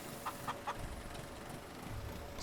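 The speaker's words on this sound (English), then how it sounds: "Sometimes you have to scare your chickens." Chickens in the farming game Farming Simulator 19 give a few short, faint clucks in quick succession, spaced apart over a quiet, low background hum.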